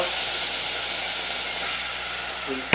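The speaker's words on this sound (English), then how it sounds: "I'm going to deglaze with some red wine" Red wine hits a hot pan after chicken is seared, a loud broad steaming hiss that holds steady and ends in a brief sharp clatter.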